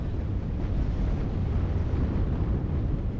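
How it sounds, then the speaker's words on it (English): Artillery shells from a called-in strike in the WARNO real-time wargame pound down as one continuous, heavy rolling rumble with dense low booms and no pause. "So I actually call in some artillery"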